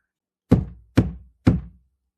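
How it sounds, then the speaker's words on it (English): Three heavy, evenly spaced thuds of a fist banging on a door, each loud and close with a short dull decay, set against silence. "Someone bangs the door."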